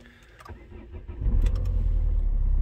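A car engine cranks and catches, rising from a brief starter whir into a steady, close idling rumble.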